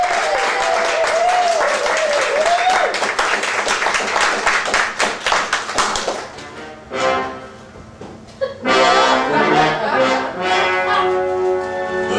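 An audience gives loud, dense applause for the Story Chicks that lasts about six seconds, then fades and gives way to other sounds.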